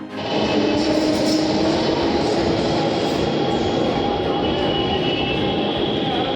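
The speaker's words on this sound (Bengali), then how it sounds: "সকাল সকাল মেট্রো ধরে নেমে পড়লাম রাজীব চকে" A Delhi Metro train runs loud and close in a continuous steady rumble with a high whine from the wheels and motors over roughly six seconds, with no voices.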